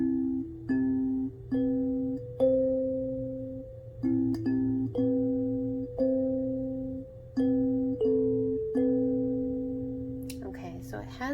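Kalimba played through a small Honey Tone amp, a slow string of ringing, bell-like plucked notes that sustain and fade in turn, carried by a steady low amplifier hum, ending with a short rustle.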